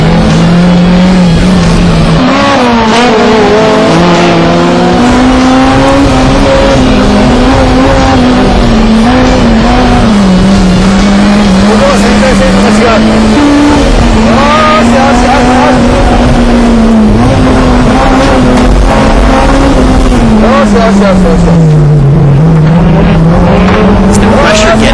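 Honda S2000 race cars race and drift nearby, their engines a loud, continuous high-revving drone that rises and dips in pitch as they slide through turns, with tire noise underneath.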